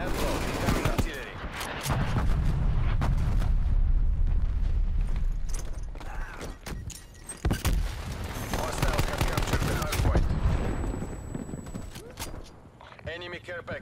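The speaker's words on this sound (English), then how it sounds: "Artillery targeting detected. Netball, incoming artillery." Incoming artillery in Call of Duty Black Ops 6 thunders as heavy booming impacts and sustained rumbling barrages, interleaved with rapid gunfire cracks, with voices speaking over parts of the bombardment.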